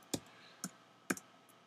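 Faint clicks of typing on a computer keyboard, three sparse, separate keystrokes spaced about half a second apart in a quiet room.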